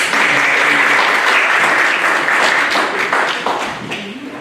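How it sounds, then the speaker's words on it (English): Warm audience applause at a high school speech and debate evening in a museum, dense sustained clapping from a sizeable crowd that stays loud and slowly thins toward the end. "And may receive a warm hand of applause."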